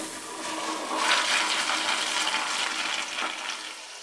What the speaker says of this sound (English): It's the toilet's extremely loud.